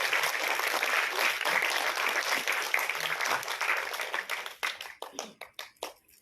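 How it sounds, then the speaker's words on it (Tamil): An audience applauds a Bharatanatyam dancer, dense steady clapping that thins into scattered individual claps and fades out near the end. "மீண்டும் ஒரு முறை உங்கள் கைத்தட்டல்களால் அவரை வாழ்த்துங்கள்"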